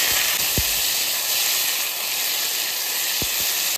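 Taro pieces drop into hot oil spiced with radhuni and bay leaf, setting off a loud, steady sizzling hiss close by that runs throughout, with a couple of short knocks.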